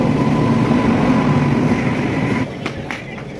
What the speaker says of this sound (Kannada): ಟ್ರೈನ್ ಬರ್ತಾಯಿದೆ